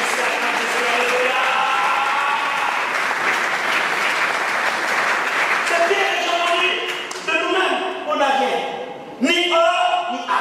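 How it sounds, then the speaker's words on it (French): A church youth seminar audience applauds and cheers in acclaim of Jesus: dense, sustained clapping fills the room with voices mixed in, swelling and breaking into fresh bursts toward the end. "Quelqu'un ici acclame Jésus."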